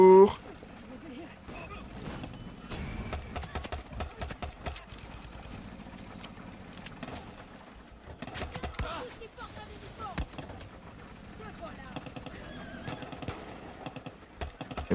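A horse in the video game Far Cry 6 whinnies and its hooves clop amid game sounds and an engine hum, with someone talking excitedly over much of it.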